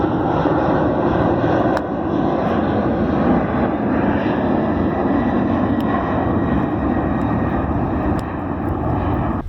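A propeller airplane drones steadily overhead, a broad continuous engine roar holding at moderate loudness throughout, with no voices.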